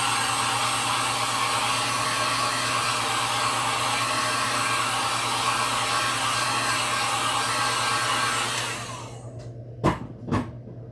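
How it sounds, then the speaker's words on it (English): A heat gun blows a steady, loud roar of hot air over acrylic paint on a wood sign for about eight seconds, then cuts off, leaving two short sharp knocks in near silence. "I'm going to hit this with the heat gun real quick"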